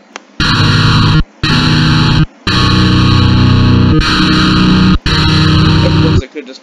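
Electric guitar with heavy distortion plays a chord progression: five loud, sustained, saturated chords separated by brief silent gaps, with no voices.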